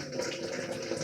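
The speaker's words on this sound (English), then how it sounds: "I've got hot boiled up water in this kettle, and I fill up this bowl with boiling water" Hot boiled water pours from a kettle into a bowl, a steady close splashing rush with no break, no voices over it.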